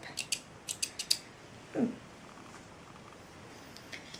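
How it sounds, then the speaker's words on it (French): Scissors snipping threads on a sewn garment, a quick series of about five sharp metallic clicks near the microphone, followed by a brief soft rustle and quiet room tone. "je vais couper les fils en direct"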